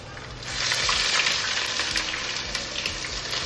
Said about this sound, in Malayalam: എണ്ണയിലോട്ട് കുറച്ച് കരിവേപ്പില എടുത്തിട്ട് കൊടുക്കാം